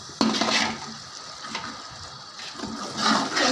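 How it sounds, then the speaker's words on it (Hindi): Water poured into a large pot of chana pulao with rice and fried chickpeas, a sloshing, splashing rush that surges in uneven bursts with a faint clink of the pot, close by and without talk. "3 किलो पानी डालेंगे।"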